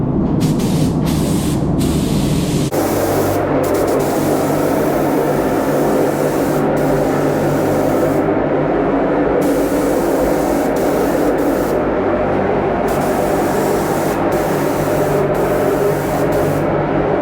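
Spray paint hisses steadily as flip-colour paint is applied to an RC car shell, a loud, close, continuous spray with a short break near the start and no talking.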